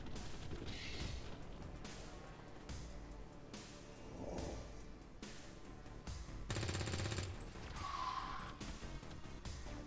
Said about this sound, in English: Hawkbite takes a shot with his auto pistol.